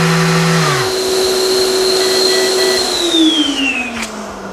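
A Festool random orbital sander with a dust extractor whines with a steady vacuum-like roar, then its pitch slides down as the motor winds down and stops automatically.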